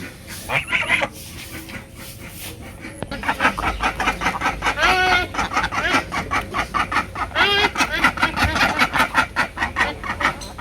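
Several chickens cluck in rapid, rhythmic bursts close by, growing busier after a brief quieter stretch near the start.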